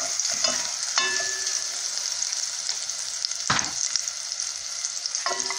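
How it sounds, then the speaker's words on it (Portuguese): Garlic frying in a pan for a simple chicken stroganoff: a continuous close sizzle with a few stirring scrapes and clinks, no talking. "Eu gosto de fritar o alho primeiro"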